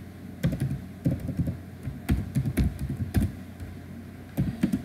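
Code being typed on a computer keyboard for a classified-ads web portal, heard as close, clattering bursts of keystrokes separated by short pauses, with no speech.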